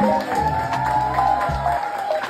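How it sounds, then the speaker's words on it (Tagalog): Wedding reception guests cheer and clap loudly, a dense crowd roar over music with tonal notes, steady throughout. "Kasama ang malakas na sigawan"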